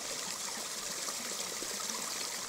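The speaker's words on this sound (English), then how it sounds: "There's a little stream here, which I must have walked past hundreds of times over the years." A small stream pours over rocks in a snowy, icy outdoor setting, making a steady, close trickling and burbling wash with no talking.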